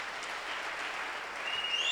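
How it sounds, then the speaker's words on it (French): A church congregation claps and cheers together during a worship service, a dense, steady wash of applause that swells slightly toward the end, with a faint whistle rising over it. "Est-ce que tu peux acclamer pour toi-même?"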